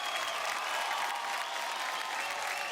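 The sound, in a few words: audience applauding for Madhuri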